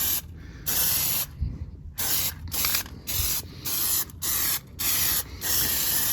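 A spray can lays Plasti Dip clear coat onto a 2023 Tacoma's wheels in repeated loud hissing bursts, each about half a second to a second long, separated by short pauses, close and with no talking.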